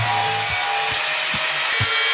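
Grinder working down the high spots of a weld on a Harley-Davidson Sportster gas tank being stretched, a loud continuous abrasive hiss with a few rhythmic rasping strokes, close up and with no talk.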